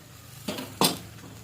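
Spice paste of cumin, chili, mustard and turmeric stirred with water in a pan for fish curry, two sharp metallic scrapes and clinks of a utensil against the pan, close and distinct.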